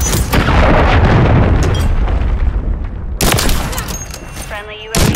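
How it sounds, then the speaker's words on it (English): A cruise missile strike in Call of Duty: Modern Warfare 3 (2023), during a Team Deathmatch on the Terminal map, lands as a loud, sustained rumbling blast. A second burst of booming debris follows, with a sharp ringing tail at the end. "Friendly cruise missile deployed."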